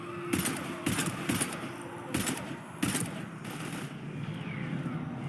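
Gunfire in Mass Effect 3 during a battle, several bursts of shots over a constant rumbling background, some louder and some more distant.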